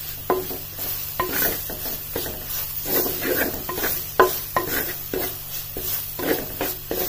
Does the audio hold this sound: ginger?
yes